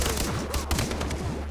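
Sniper and other gunfire in the first-person shooter game Far Cry 3, a dense burst of loud shots with steady rumbling background game audio throughout, no talk.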